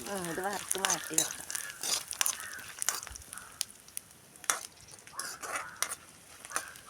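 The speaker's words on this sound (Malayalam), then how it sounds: "ഇത് വറുത്ത് മാറ്റി വെക്കാം." Crackling sizzle of peanuts, raisins and cashews frying in a pan for jackfruit payasam, with a spoon stirring and scraping while a person talks over it.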